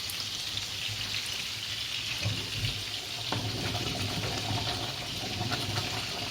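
Tomato sauce simmering in a pan bubbles and sputters with a steady wet hiss, soft pops breaking through at a close, even level, and no one speaks.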